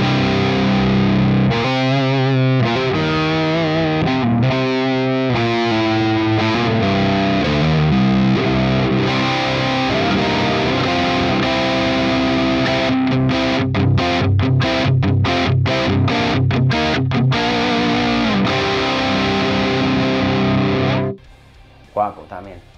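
An electric guitar is played through an ML Sound Lab Amped Dual Rectifier plugin modelling a Mesa Boogie amp, giving a loud, heavily distorted tone. Chugging riffs and sustained chords run for about twenty seconds before stopping abruptly.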